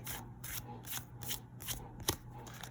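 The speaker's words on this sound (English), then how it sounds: "I obviously just did a decent bit of shuffling" A deck of Yu-Gi-Oh! trading cards is shuffled by hand in quick repeated bursts, about six crisp riffling rasps in a steady rhythm, close and fairly quiet with a sharp tap near the end.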